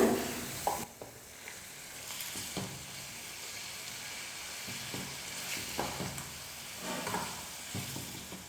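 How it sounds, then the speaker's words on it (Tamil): Onion and tomato sautéing in a pan for chutney, with a steady close sizzle and periodic scraping stirs of a spoon against the pan, moderately quiet, with no voices. "தக்காளி நல்லா வதங்கணும், அதனால் 2லேருந்து 3 நிமிஷத்துக்கு நல்லா குக் பண்ணிக்கிறேன்."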